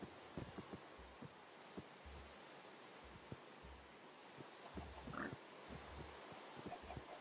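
Minecraft pigs make short, soft, low grunts at irregular intervals over quiet game ambience, several faint oinks scattered throughout.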